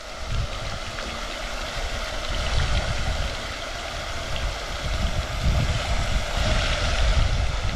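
Irrigation water flows through a corn field in a steady, loud rushing wash with low rumbling surges, continuous from start to finish and no voices over it.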